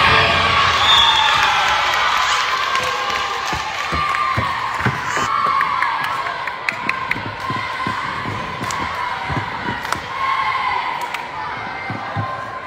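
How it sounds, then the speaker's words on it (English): Crowd cheering and shouting at a kids' game, with whoops, children's voices and occasional ball bounces and thuds, steady and loud throughout; people talk within the noise. "we're here cheering on Blake"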